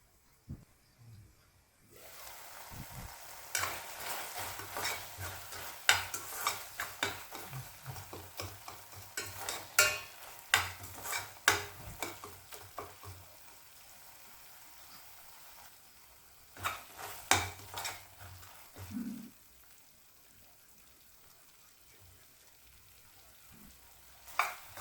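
Tomatoes sautéing in a pan for a tomato gravy, with bursts of stirring clatter and sizzle that come and go, fading to quiet stretches in between.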